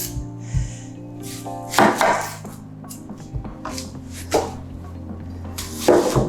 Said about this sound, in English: So I'll start by chopping the onion.